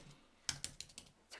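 Quick keystrokes on a computer keyboard whose battery is running low, about six close, crisp clicks in a short uneven burst, with no talking.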